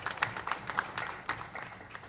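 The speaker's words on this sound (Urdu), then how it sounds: "آپ کی بھرپور تالیوں میں ان کو خوش آمدید کرتا ہوں" An audience at a ceremony honoring a former IG of Punjab Jails claps to welcome guests: a fairly faint run of scattered, uneven handclaps from a modest crowd.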